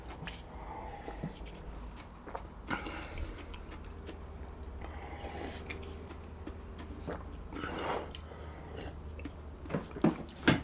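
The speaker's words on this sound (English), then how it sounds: "Bit of chewing." A raw garlic clove is chewed up close, with soft irregular crunching and mouth noises over about ten seconds and a few sharper bites near the end.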